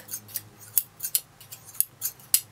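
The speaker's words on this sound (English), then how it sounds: "every seamstress needs a great pair of scissors" Fabric scissors from a sewing kit snip repeatedly, about ten sharp, close metallic cuts in a fairly regular rhythm over a quiet background with no voices.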